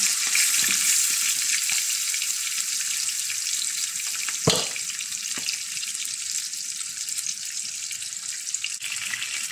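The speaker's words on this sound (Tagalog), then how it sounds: "Half cook lang pag prito natin sa ating chicken" Steady, dense sizzling of chicken being half-cooked in hot oil, loud and continuous, with a single sharper clack midway and no voices.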